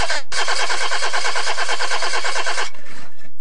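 A car engine fails to start, cranking in a continuous rapid churning rhythm for a couple of seconds before cutting off, loud and close in a radio spot.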